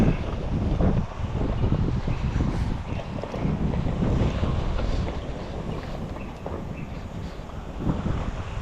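Strong storm wind gusts during a thunderstorm with dead leaves on the ground, a loud, continuous roaring blast that buffets the microphone for the whole stretch, with no talking.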